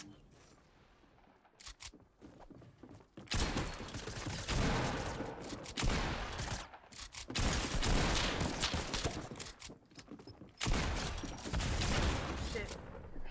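Automatic rifle and minigun fire in the shooter video game Apex Legends, long sustained bursts of loud gunfire broken by brief gaps, with players talking over the action.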